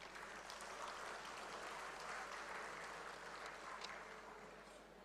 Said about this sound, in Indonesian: beri tepukan kepada mereka